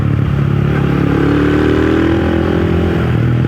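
A homemade motorcycle engine revs steadily at partial throttle, a loud, close, continuous drone with rattling mechanical clatter and no speech.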